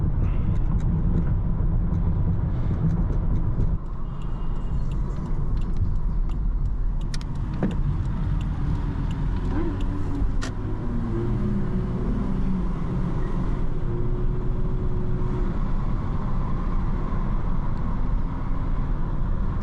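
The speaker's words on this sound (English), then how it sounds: "the Toyota Mark II JZX100. This car is extremely comfortable." A Toyota Mark II JZX100 sedan drives steadily with a low engine drone and road rumble heard from inside the cabin, continuous throughout.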